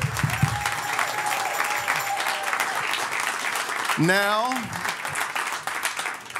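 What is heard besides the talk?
audience clapping hands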